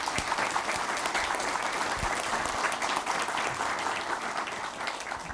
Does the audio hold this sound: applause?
yes